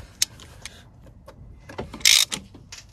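Ratchet work loosening bolts on a 2018 VW T6 2.0 diesel engine with DSG during a timing belt job: a handful of sharp metallic clicks spread over a few seconds, ending in one brief louder burst of rattling, close and alone.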